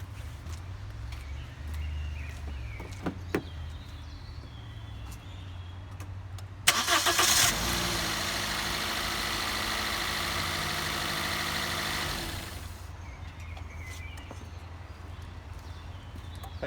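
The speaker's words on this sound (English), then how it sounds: "Let me start the engine and see." A 2005 Toyota Corolla E12 with newly replaced spark plugs cranks briefly and fires up, then settles into a steady idle for several seconds before dropping back to quiet background clatter.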